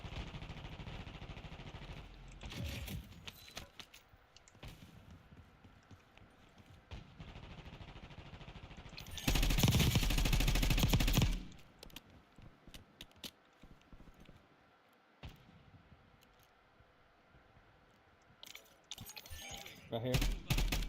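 Video game gunfire crackles in bursts, with a loud sustained volley midway, amid game ambience and someone talking over the action.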